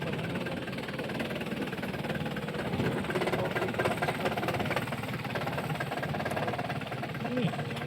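A car engine idles and runs at low revs during a night driving test, a steady low rumble under an instructor's continuous speech.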